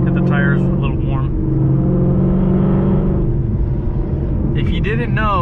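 A car drives on a winding mountain road, weaving to warm its tires, with a steady engine drone and rumble from inside the cabin and brief tonal sweeps at the start and end.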